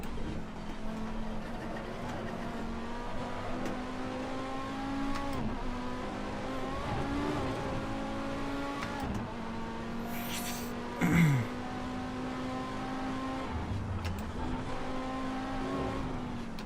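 Race car engine in the Assetto Corsa sim, heard in a ranked online race, droning steadily at low revs as it bogs, with gear changes, small rev rises and a short sharp burst near the end.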